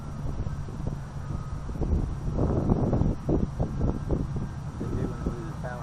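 Strong wind buffets the microphone at a model plane flying field, a low rumbling gusty roar that swells and fades, with faint voices underneath.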